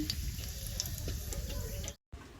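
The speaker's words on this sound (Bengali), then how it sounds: "জিরে ফোড়ন" Cumin seeds crackle and sizzle in hot oil in a heated kadai, tempering for aloo dum; a steady, fairly quiet fizz that cuts out briefly near the end before resuming.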